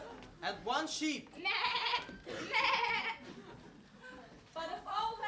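Sheep bleating in a stage-theatre telling of a farm tale, a series of wavering, nasal bleats in several bursts, close and fairly loud, with brief gaps between calls.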